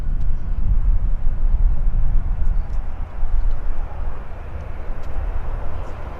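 A KF Aeroflyer airliner taxis out at Vancouver airport, a steady low jet-engine rumble that swells and eases slightly, with faint distant noises above it.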